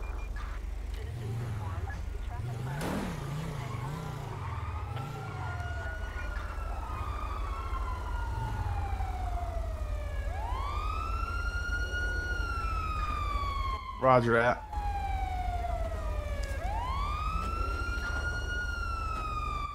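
A police car siren, likely from a video game, wails in long rising and falling sweeps over a steady low engine rumble, with a brief burst of radio-like crackle partway through and a voice speaking over it.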